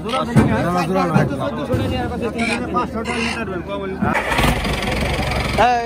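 A vehicle engine hums steadily in the background, mostly buried under loud, overlapping voices of people haggling at a busy market.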